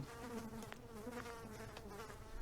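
Steady buzzing of a housefly in The Asylum, a horror video game, a soft droning whine that hovers nearby and stays fairly quiet, with no voices.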